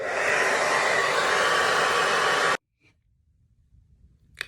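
A hair dryer fitted with a diffuser drying curly hair blows as a loud, steady broadband roar close by for about two and a half seconds, then cuts off abruptly, leaving near silence with a couple of faint clicks.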